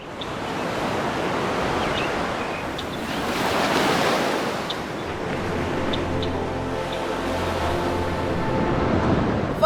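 Sea waves roll and break steadily on the shore in a continuous loud wash of surf, with wind noise buffeting the microphone throughout and no voices.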